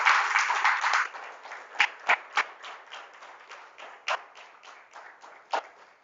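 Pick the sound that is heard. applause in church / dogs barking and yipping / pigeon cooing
applause in church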